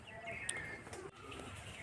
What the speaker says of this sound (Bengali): দেখেন দেশি কবুতরের ডাক কীভাবে ডাক দিচ্ছে